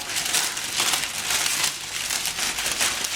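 Chicken breasts are rolled in paper to coat them in spice, producing steady, close crinkling and rustling of the paper in uneven waves throughout.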